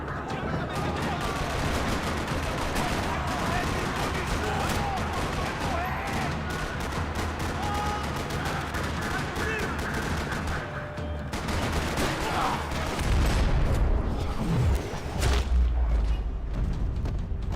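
Video game gunfire from Max Payne 3: steady, rapid bursts of shots over a dense background of action sounds, with a voice talking partway through and heavier thuds near the end.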